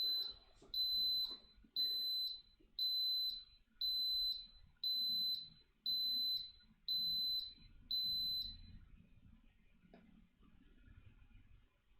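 An electronic timer beeps about ten times, each one a clear, high, steady tone about a second apart, before falling silent and leaving faint room noise.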